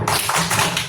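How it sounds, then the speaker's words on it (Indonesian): Schoolchildren in a classroom do a quick rhythmic spirit clap, a short burst of several crisp, close, loud claps in a patterned beat. "Coba tepuk semangat"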